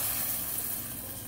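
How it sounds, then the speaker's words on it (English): Cumin and mustard seeds sizzle in hot oil for an Indian kadhi dish, a steady close, bright frying hiss that holds at an even level throughout, with no talking. "I love that sizzling noise"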